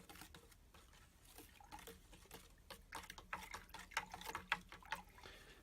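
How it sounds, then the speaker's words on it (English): Quiet, close water swishing and soft clinks as a paintbrush stirs water in a small jar, growing slightly busier toward the end. "I'll give that a bit of a stir with our favourite paintbrush"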